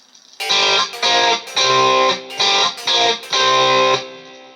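A 52 reissue Telecaster on its bridge pickup plays through a Bias FX 2 amp, ringing out six distorted chords in a choppy rhythm, each held briefly with short gaps between, loud and alone before a final chord fades out.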